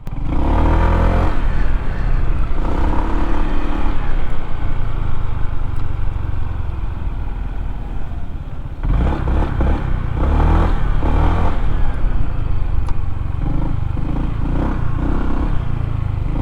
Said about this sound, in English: I'll let you hear the famous ADV 150